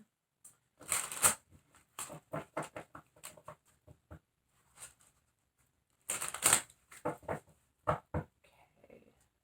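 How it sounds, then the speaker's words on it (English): Tarot cards being shuffled by hand, with quiet, close, papery riffles and snaps in short irregular bursts separated by silences, two denser flurries standing out in an otherwise hushed room. "I also like to shuffle a little bit before I start using them"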